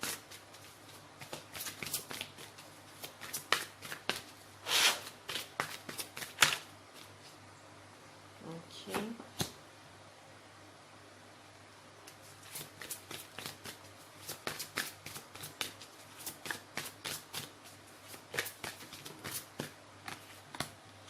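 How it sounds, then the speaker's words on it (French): Tarot cards being shuffled and drawn, producing a long series of brief papery flicks and riffles in irregular clusters, close and fairly quiet, with no voice. "Ok, alors je vais piocher une carte."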